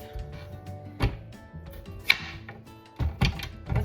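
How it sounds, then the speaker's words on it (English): A sharp knife chopping the ends off a sweet potato on a cutting board, a few distinct close knocks spaced apart with a faint ringing tap between them, no talking. "So we are going to get a really sharp knife, preferably Pioneer Woman. Okay, cut the ends off."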